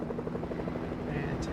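Helicopter flying in the video game Fortnite, a steady buzzing rotor drone held throughout, with a voice talking over it.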